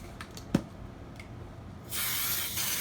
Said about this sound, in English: Make sure you spray it well.